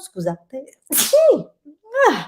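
A single sharp sneeze bursts out close by, surrounded by brief Italian speech from a woman and others reacting just after it.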